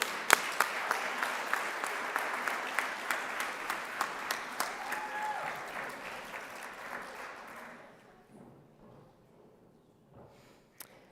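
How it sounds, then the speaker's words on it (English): A ceremony audience at a hall of fame induction gives a round of applause, with scattered louder claps standing out, then the clapping gradually thins and fades to near silence. "Let's give him another round of applause."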